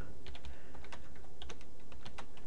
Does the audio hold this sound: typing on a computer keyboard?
yes